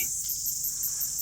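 New Zealand summer cicadas near Ruapehu give off a loud, steady shrill buzz with a faint pulsing rhythm, sustained without pause over quiet low background noise.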